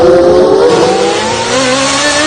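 A Formula 1 car accelerating hard on track, a loud close high-pitched engine whine rising steadily in pitch as it pulls away.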